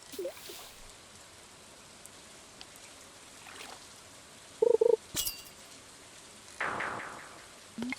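Steady, faint rain hiss in the farming game Stardew Valley during a fishing session, with a few short game chimes and clicks over the wet background.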